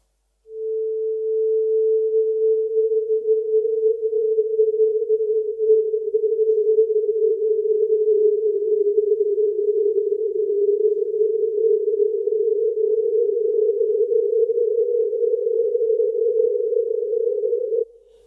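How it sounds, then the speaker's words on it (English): A single steady pure 440 hertz sine tone fed through an infinite delay holds for about seventeen seconds, slightly wavering in pitch, then cuts off abruptly. "it's just a single 440 hertz tone that's fed into it"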